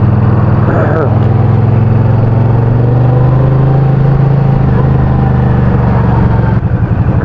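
Motorcycle engine during a ride, a loud, steady low rumble close to the microphone with a brief rise near the end, running continuously throughout.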